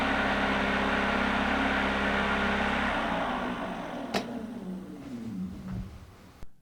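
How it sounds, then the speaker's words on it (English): A Minn Kota Ultrex Quest trolling motor and a brushed trolling motor run together at full speed, giving a steady, fairly quiet motor whine and hum that fades out over the last few seconds. "here's both motors running at full speed"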